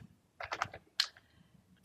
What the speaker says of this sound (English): I'm going to click on the test formula button